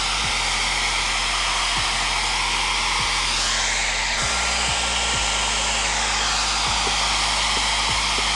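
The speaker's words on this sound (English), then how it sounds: "Let me get the hair dryer." Hair dryer blowing continuously and loudly up close as it heats black vinyl wrap on a Genesis Coupe, a steady whooshing roar with a low hum and occasional shifts in pitch.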